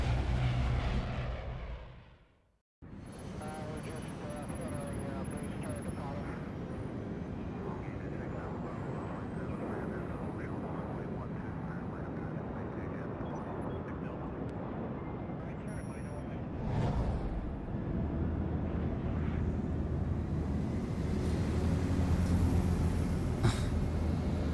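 A steady, muffled engine drone fills an airplane cabin in Splinter Cell Blacklist, entering after a brief silent gap and running continuously under dubbed Portuguese dialogue, growing a touch louder late.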